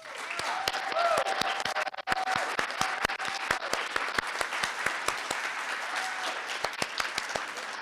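An audience applauds, a dense wash of clapping with a few sharp individual claps standing out, lasting several seconds before tapering slightly.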